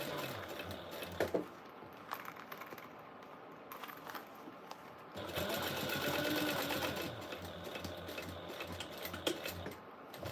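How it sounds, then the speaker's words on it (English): Sewing machine top stitching a seam: bursts of rapid mechanical needle chatter, close and clear, pausing and restarting with a longer steady run in the middle, with faint handling clicks between. "let's go ahead and top stitch down that seam"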